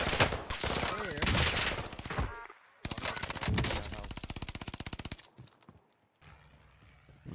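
Loud rapid automatic gunfire bursts in a Call of Duty match, dense volleys of shots separated by short gaps, close and prominent.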